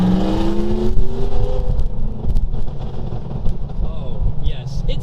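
A 900hp Revenge GT full carbon fiber supercar, its engine revving hard then crackling and popping as the throttle lifts, loud and close inside the cabin.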